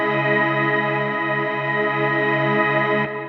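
A sustained synth pad from an Ableton Operator patch, with a loud, steady harmonic tone that swells gently and carries a chorus-like shimmer before it cuts off shortly after three seconds.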